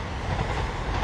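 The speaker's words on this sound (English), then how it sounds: "Obviously that wasn't my train because something didn't even stop, but it's going in the right direction." A train speeds through Higham station without stopping, a loud, steady rush of rolling wagons and rail noise heard close by with no one talking.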